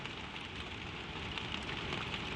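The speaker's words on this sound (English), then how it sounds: "The rain on the slates, the warm of the bed, the low roof close above." Steady, soft rain falls on a low slate roof, a dense even patter with no breaks, close and gentle throughout.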